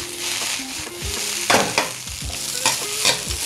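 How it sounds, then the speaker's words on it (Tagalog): Fried rice being stirred and fried in a hot pan: a steady sizzle under repeated scraping and clanking of the spatula against the metal, close and loud. "Ito sa pagluluto ng fried rice"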